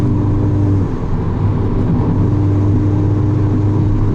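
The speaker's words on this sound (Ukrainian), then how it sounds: "Я спеціально так роблю педалькою, то нажимаю, то відпускаю, для того, щоб чути ті, як вона спускає повітря." Loud, steady engine drone close by from a 300-horsepower Volkswagen Jetta GLI, the throttle easing on and off in a low rumbling hum as the turbo releases air.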